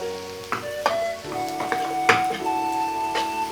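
Capsicum added to a pan of chilli chicken with ginger and garlic, a soft steady sizzle under clinking stirring taps from a utensil against the pan, close and moderately loud.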